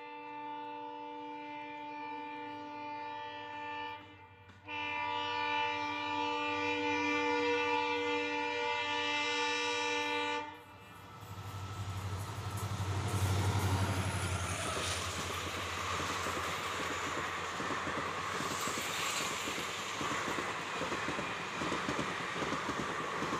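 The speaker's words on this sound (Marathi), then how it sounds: "अत्यंत वेगाने सोलापूरकडून पुण्याच्या दिशेने ही गाडी गेली" A train passes at high speed through Jeur railway station, heading from Solapur toward Pune, with a long horn blast followed by loud rumbling and rattling of wheels and cars close by.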